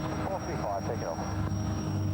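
An aircraft throttling up for a low-level takeoff, with a steady engine drone and a high whine holding throughout under radio-style voices talking.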